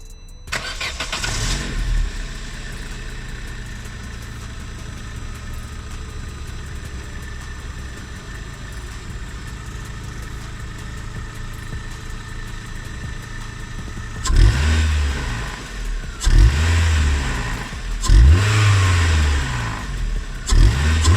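A Vauxhall Astra Mk4 engine fitted with an induction kit idles steadily, then revs up hard in several loud bursts that fade back down, with a throaty intake roar.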